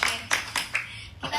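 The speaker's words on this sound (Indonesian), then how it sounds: "Tepuk tangan dulu dong buat kalian" A handful of separate, scattered claps from a small group of teenagers at a talk, five or so distinct hits with gaps between them, close and fairly loud.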